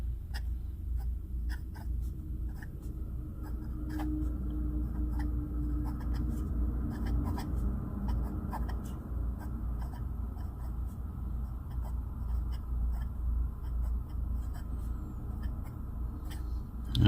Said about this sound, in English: I'm going to be quiet and write just a little bit.